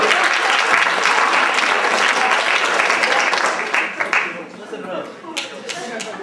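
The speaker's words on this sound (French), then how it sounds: "si vous voulez même applaudir, ne vous gênez pas non plus" Loud, dense applause from a theatre audience fills the opening seconds, then thins and tapers into scattered individual claps toward the end.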